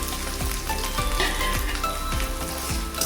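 Mustard seeds, fennel and coconut pieces sizzling in hot oil, a loud, dense, continuous crackle with faint rhythmic scraping underneath, close up.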